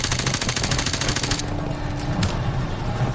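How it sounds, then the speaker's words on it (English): Grenade launcher fire in Call of Duty Modern Warfare Remastered amid battle, a loud rapid pulsing stream of shots that cuts off midway, leaving a duller rumble with a single sharp crack after. "Soap uses a grenade launcher to hit the other enemies in the adjacent missile bay"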